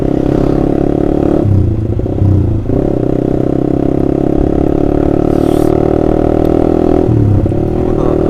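Honda CBR150R with an Austin Racing aftermarket exhaust, loud and close, holding a steady throaty drone with brief dips and blips around two and seven seconds, no talk over it.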